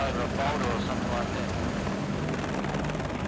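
A rescue helicopter in the New Zealand high country sets down, its rotor and engine roaring steadily and loud throughout with no break.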